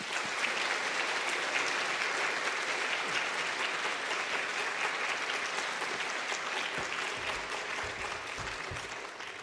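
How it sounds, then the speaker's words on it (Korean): Steady, enthusiastic applause from a large church congregation welcoming a speaker, sustained throughout and tapering slightly near the end. "박수로 맞이하겠습니다"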